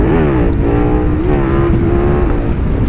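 A KTM 1290 Super Duke R motorcycle's big twin engine is held loud and close at the rev limiter, a harsh sustained roar with a stuttering limiter edge and no talking.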